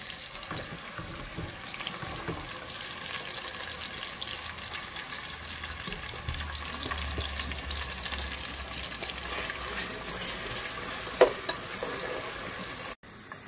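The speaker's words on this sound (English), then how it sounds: "and make it fry a bit." Steady sizzling and bubbling of tomato sauce frying in hot oil for Nigerian stew, continuous and close, with occasional faint clinks.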